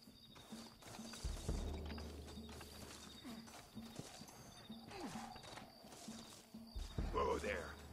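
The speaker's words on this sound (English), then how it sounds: "Looks like Carlos left us some horses." Hooves clip-clop and a horse whinnies in the Red Dead Redemption video game, with other game sounds and low rumbling around them, moderately loud and steady across the scene.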